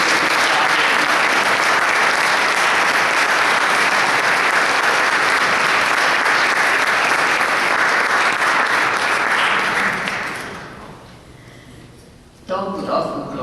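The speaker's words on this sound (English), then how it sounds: "join me in a round of applause for Joe and Shirley for their tremendous service" A large audience at an Albanian independence centenary ceremony gives Joe and Shirley a loud, sustained round of applause that fades out near the end, after which a speaker's voice resumes.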